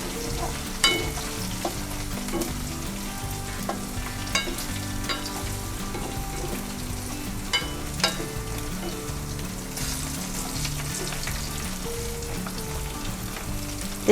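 Pork fat frying in a pan to render homemade lard, a steady dense sizzle with scattered sharp pops and occasional stirring clicks, close and continuous.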